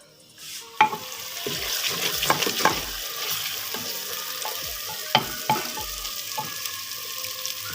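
Carrots and mixed vegetables sizzling in a hot pot for a dhaba-style mix veg dish, a steady close frying hiss broken by repeated sharp clanks and scrapes of a spoon stirring against the metal.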